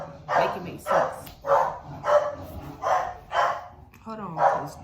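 A dog barks repeatedly at a window, reacting to other dogs outside: about eight loud, evenly spaced barks, close by, with a short whimpering yip near the end.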